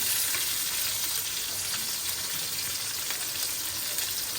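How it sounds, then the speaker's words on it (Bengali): Sliced onion fries with salt in a hot pan, giving a steady, even sizzle with a crackling hiss that holds unbroken throughout. "পেঁয়াজটা মজার লবণ দিয়ে নেবো আগে"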